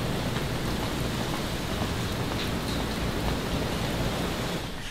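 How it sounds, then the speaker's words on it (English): Steady overnight rain with a dense, continuous hiss, even and fairly loud throughout, with no voices. "Rain came in overnight and is expected to stay for the week"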